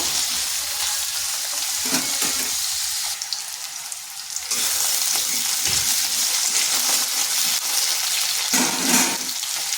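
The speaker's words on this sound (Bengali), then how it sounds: "মিডিয়াম আঁচে আলুগুলোকে হালকা ভেজে নেব।" Thin-cut potato strips frying on medium heat in a pan for a potol recipe, a steady close sizzle with brief stirring scrapes, no talk.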